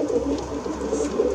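Young racing pigeons of the Flor Vervoort line, ringed for an English club's race program, give a low continuous cooing murmur at close range over a steady hum, with no talk.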